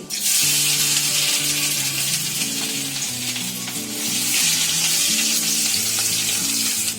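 Chopped ginger and garlic frying in hot oil make a loud, continuous close sizzle, with a brief dip midway before it swells again. Faint tonal music runs underneath.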